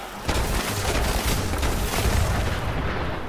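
Heavy explosive Tesla rifle fire in Fallout 76, a dense rumbling barrage of booming blasts that runs continuously and loudly, with no distinct separation between shots.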